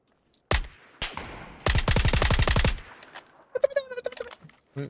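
Gunfire in PUBG: a single loud crack, then a rapid automatic burst of about a dozen shots, followed by fainter distant pops and clatter.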